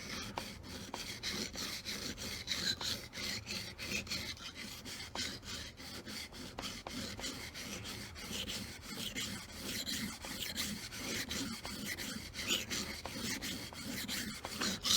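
A knife blade is drawn back and forth across a wet whetstone, covering the whole face of the stone, giving a steady, close, continuous rasping scrape with no talk.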